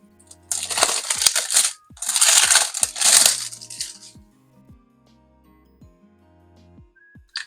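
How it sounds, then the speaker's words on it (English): Plastic wrapping is cut and crinkled off a gel polish set in two bursts of close, crisp rustling, followed by a few light clicks and taps as the pieces are handled. "I'm going to go ahead and cut off the plastic before I show you"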